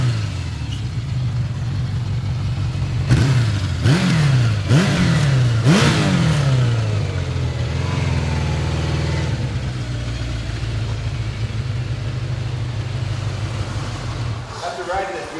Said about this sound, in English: Listen to the exhaust note on this thing.